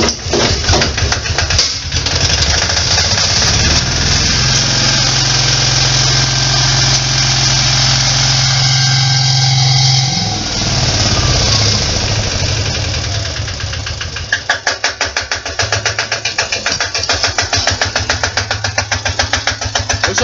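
A Berning Di7 diesel engine on an Agria 2800 cold-starts and runs loudly and close, its rough clattering firing continuing steadily, then settling into a fast, even rhythmic chug near the end.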